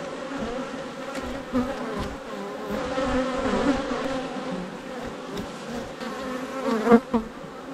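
Dense, steady buzzing of many honeybees close around a hive in an apiary during end-of-season work, a continuous droning swarm with a few louder passes near the microphone.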